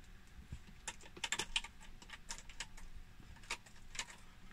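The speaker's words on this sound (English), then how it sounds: "Type on the keyboard." Keys clacking on the keyboard of an Amstrad ALT286 retro laptop, with irregular bursts of typing and a cluster of quick strokes, fairly close and moderately quiet, no talking.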